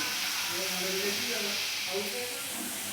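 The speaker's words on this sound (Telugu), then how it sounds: "ఇలానే ముక్కలన్నీ వేగేదాకా మనము ఫ్రై చేసుకోవాలండి ఆయిల్లో" Bitter gourd pieces frying in oil until browned make a continuous, even hiss, close and steady, while a person talks over it throughout.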